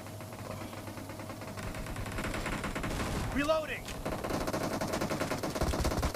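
Rapid automatic gunfire rattles in the mobile game BGMI, a dense stream of shots over ongoing game noise, with one brief sweeping effect in the middle.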